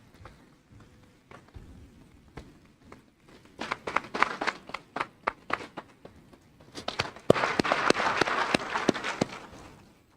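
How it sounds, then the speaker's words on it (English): Scattered claps build into a short burst of audience applause for students at a 2022 senior awards ceremony, thinning out, then swelling louder again toward the end. There is no talk. "let's give these students an awesome round of applause"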